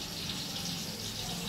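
Water running from a tap, a steady faint rushing stream continuing without pause.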